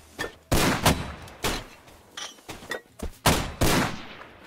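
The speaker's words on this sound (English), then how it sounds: "Alright, I shot everything I had." Gunfire from the video game Unturned: a series of sharp, loud shots in irregular bursts, some single and some in quick pairs, with short gaps of quiet between them and no talking.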